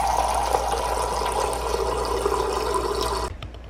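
Water pours steadily from a water purifier dispenser in an apartment in South Korea, a continuous close-up rushing stream that stops abruptly near the end.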